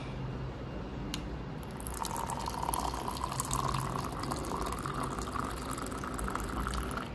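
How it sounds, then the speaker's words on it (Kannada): Hot water pours into a cup of coffee powder, milk powder and sugar in a hotel room, a steady close-up splashing fill that rises in pitch as the cup fills. "ಇದಕ್ಕೆ ನಾನು ಹಾಟ್ ವಾಟರ್ ಹಾಕ್ತಾಯಿದ್ದೀನಿ."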